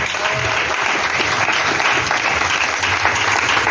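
A church congregation breaks into loud, sustained applause for the Lord Jesus during a worship service, a dense, continuous clapping that fills the room.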